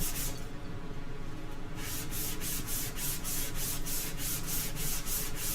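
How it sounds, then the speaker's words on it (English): Cured resin art piece sanded by hand, a steady loud rasping rub that runs without a break, with rhythmic back-and-forth strokes coming through clearly in the second half. "if this would have been anything but resin, we would not be able to sand this off."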